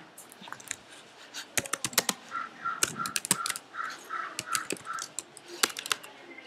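Irregular bursts of clicky keystrokes on a computer keyboard, close and fairly quiet, with short pauses between runs of typing.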